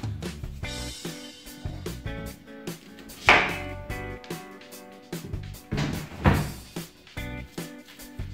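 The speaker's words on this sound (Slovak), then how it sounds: "Nakrájame cibulu." A knife chopping an onion on a board, a steady run of quick crisp taps close by with a few louder clunks, no talk.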